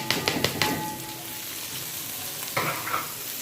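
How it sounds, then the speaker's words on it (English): Onions, garlic and plenty of green spices fry in a pan with a steady close sizzle, broken by a few sharp stirring clicks near the start and again toward the end. "I'm going to just fry it for a while."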